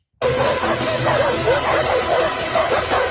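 Small dog barking and yipping steadily and close up for about three seconds after a brief silence, over a noisy background with faint babble.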